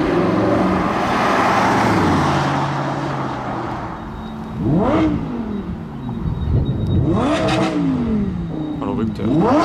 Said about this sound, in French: Nouvelle GT3 RS 992.